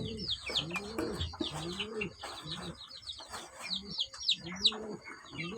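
Farm pigeons in a pair coo in soft repeated rolling phrases, close and fairly quiet, with thin chirps from other birds overhead and faint background murmur.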